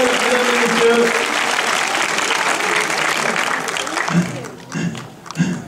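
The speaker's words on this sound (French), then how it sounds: "On applaudit Dimitri Rougel, mesdames et messieurs." A theatre audience at a Lion King French voice-cast event in Paris claps for a voice actor on stage, with loud, steady applause that thins into scattered claps and a few voices toward the end.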